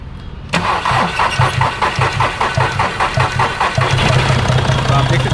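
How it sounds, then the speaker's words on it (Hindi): A Volkswagen Polo engine cranks with a rhythmic chug for several seconds, then catches and settles into a loud, steady idle close by. "तो आप देख सकते हैं कार स्टार्ट हो चुकी है।"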